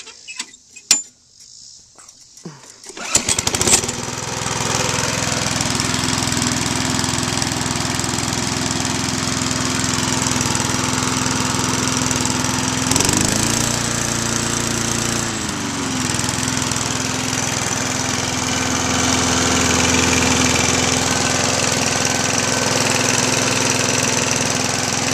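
A Tecumseh-powered push lawnmower cranks and settles into a steady, loud, close-up engine run, chugging continuously with a brief dip in pitch partway through and no talking.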